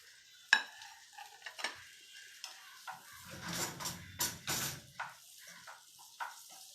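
Onions and capsicum sautéed in masala in a pan, quiet intermittent stirring scrapes and taps of a spatula with a soft sizzle rising in the middle, near and alone.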